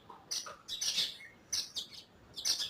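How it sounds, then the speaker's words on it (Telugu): Sparrows chirp in a gooseberry tree in the Uppal area of Hyderabad, several bright bursts of twittering in quick succession, fairly close and clear. "ఇవి పిచ్చుకలు."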